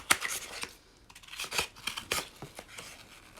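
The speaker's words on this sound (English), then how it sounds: "I'm going to take off these two right here on the end by using my scissors" Scissors snip through a paper ten frame in a series of quick, crisp cuts with short pauses between them, close and fairly quiet.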